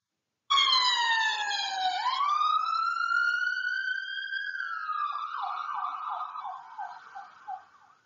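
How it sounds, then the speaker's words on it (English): Ambulance siren wailing up and down in long sweeping tones, loud and close, then breaking into a quick yelping warble at the end. "What type of transport is that? Yes, it is an ambulance."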